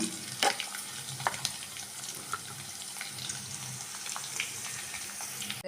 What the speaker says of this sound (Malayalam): ഇത് നന്നായിട്ട് മൂക്കണം മൂക്കണം എന്ന് പറഞ്ഞാൽ ഒരു ചുമപ്പ് കളറാവുന്നിടം വരെ നമുക്ക് ഇതിനെ ഒന്ന് ഇളക്കി കൊടുത്തുകൊണ്ടിരിക്കാം